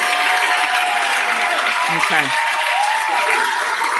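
An audience claps loudly and steadily at a live talk-show taping, with a brief spoken word heard over the applause.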